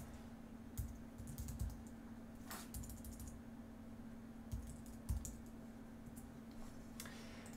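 Computer keyboard typing in scattered bursts of quick clicks, close and fairly quiet, over a steady low electrical hum with no talking.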